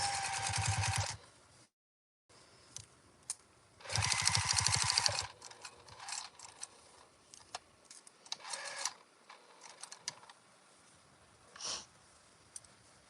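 A sewing machine runs in short bursts, stitching fabric pieces for a microwaveable bowl cozy, with rapid mechanical chatter, a brief pause, then another longer run followed by scattered clicks and handling taps.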